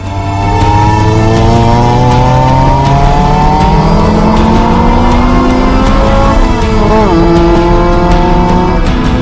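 BMW E46 race car with 170 horsepower racing on track: the engine screams loud and close, climbing through the revs with quick gear changes and a few pitch dips, continuous with no talk.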